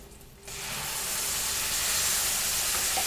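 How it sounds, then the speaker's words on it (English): Ground mustard masala paste hits a hot pan for a village-style fish fry, bursting into a loud, close hiss and sizzle that swells quickly and then holds steady. "fry this masala very nicely"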